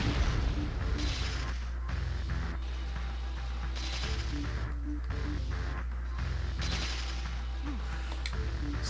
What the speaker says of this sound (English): quit shooting the lasers